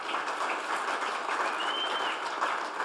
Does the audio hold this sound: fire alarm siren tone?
no